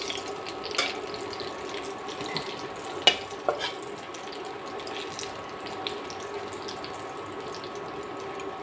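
Food frying in a pan of oil on low heat, a soft, steady bubbling hiss with a few small pops and crackles, fairly quiet and close.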